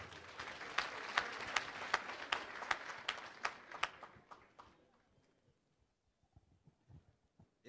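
Applause from an anniversary ceremony audience greeting a company CEO, faint clapping with distinct sharp claps standing out, fading away after several seconds into near silence.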